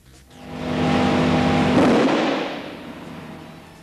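A 250 amp circuit breaker closes onto a short circuit, setting off a loud, sustained roaring blast that swells over about a second and then slowly fades away.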